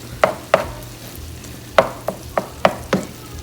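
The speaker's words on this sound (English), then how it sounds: "what we're gonna do is drain all the oil to one side" Taco meat sits in a hot pan with its oil pushed to one side, and a spatula scrapes and knocks against the metal in a series of about seven sharp, close strikes over a faint background sizzle, with no speech.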